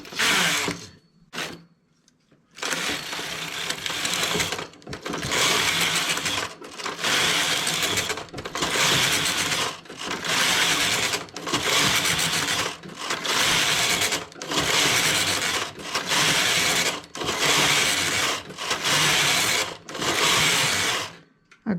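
A knitting machine carriage makes about a dozen loud mechanical runs back and forth as it knits a striped triangle pattern. Each whirring pass lasts roughly a second and is split from the next by a short gap.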